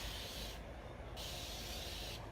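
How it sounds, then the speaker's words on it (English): Two quick hissing bursts from a spray bottle misting water, close and soft, with a short pause between them. "I'm going to spray these outer edges"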